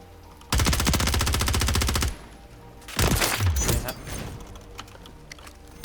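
Automatic weapon fire in the Call of Duty MWIII video game, two loud rapid bursts with a brief pause between them, followed by weapon handling clicks and mechanical sounds.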